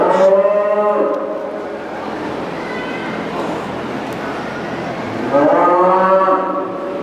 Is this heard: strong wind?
no